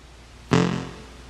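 A single short fart noise made as a comic imitation during a keyboard lesson, a sudden close, buzzy blurt that fades out within about half a second.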